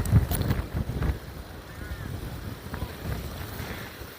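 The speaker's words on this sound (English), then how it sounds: "the wind is just getting up there, catching the gimbal" Wind buffeting a camera gimbal outdoors at Powerscourt Gardens, a steady low rumbling roar with a few gusty thumps at the start, close to the microphone.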